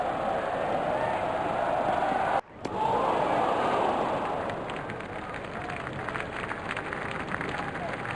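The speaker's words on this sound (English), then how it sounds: "Crowd going mad here." A stadium crowd in a cricket video game roars in a broad sustained wash that swells after a brief cut and then eases slightly, with a commentator talking over it.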